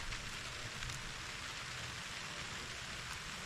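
Heavy rain falls steadily on a chili pepper field, a continuous soft hiss of drops spread evenly and fairly faint, with no voices.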